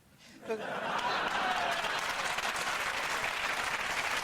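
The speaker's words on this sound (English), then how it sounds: "This man was clapping like a sea lion." Studio audience breaks into sustained applause at a general election comedy panel, rising abruptly after a moment of quiet into a dense, steady wash of many hands clapping, with faint chuckles mixed in.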